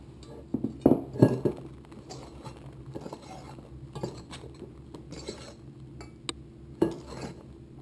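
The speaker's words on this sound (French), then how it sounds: "Je mélange maintenant les ingrédients secs à l'aide du fouet, mais un peu plus délicatement" Wire hand whisk folding dry ingredients gently into beaten egg whites in a bowl for a strawberry-violet angel cake, with soft irregular clinks and scrapes against the bowl, a few louder taps near the start and end.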